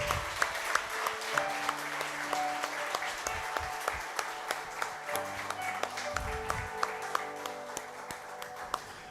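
A church congregation claps steadily while sustained organ or keyboard chords play underneath, with a few sharper claps standing out.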